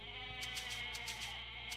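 A goat in the video game Age of Mythology gives a run of quick, nasal bleats, repeated about seven times in under two seconds over a steady background hum of game ambience.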